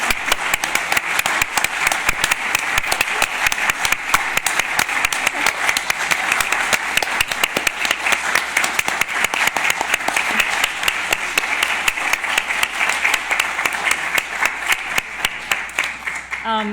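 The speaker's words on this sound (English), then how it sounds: "give them a round of applause." A conference audience gives sustained, even applause for the organizing team, a dense and close wash of many hands clapping that holds steady throughout with a few voices mixed in.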